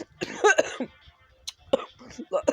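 Several harsh coughs in quick bursts, close to the mic, separated by brief pauses and some breathy sounds.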